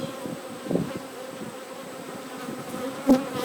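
Honey bees buzz steadily inside a hive, a dense close-up drone with a few brief louder bursts and no talking.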